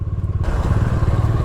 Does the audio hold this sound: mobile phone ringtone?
no